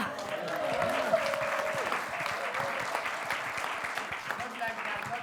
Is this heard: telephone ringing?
no